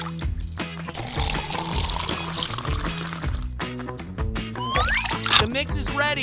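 Water poured into a toy concrete mixer while building a LEGO highway and bridge, a continuous trickling pour running under steady background music with tonal beats.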